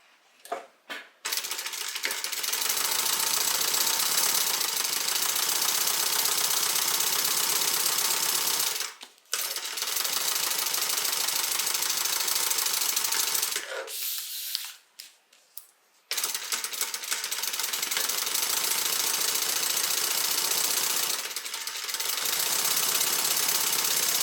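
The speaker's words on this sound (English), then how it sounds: "And now we're going to stitch." Sewing machine running a long seam on a handbag with about a half-inch allowance, a loud, fast, continuous whirring chatter close by, stopping briefly twice and then starting again.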